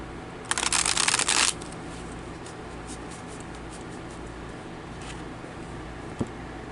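Tarot cards are riffled in one quick, crisp flurry lasting about a second, followed by near silence with faint handling taps and a small knock.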